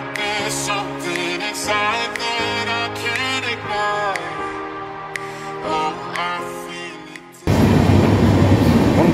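Steel Express train running from Howrah to Jhargram, heard as a loud, steady rumble and roar of the moving carriages that bursts in near the end after a stretch of music.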